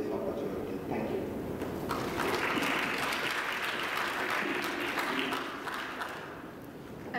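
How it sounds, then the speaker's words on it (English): An audience claps steadily at a symposium after a talk, a dense, sustained round of applause from a hall crowd that holds for several seconds before thinning out near the end. "let's all give a warm round of applause for Dr. Vivekanandhan."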